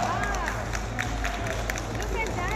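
Audience clapping for a juggler's trick at a mall tech expo, a crowd clapping in rhythm under a busy hall hum and overlapping voices.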